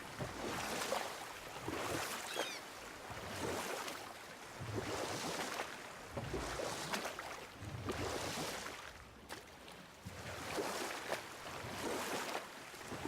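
Kratos rows a boat through calm water in God of War. Oars swish and splash in a slow, regular rhythm roughly every two seconds over soft wave and wind ambience.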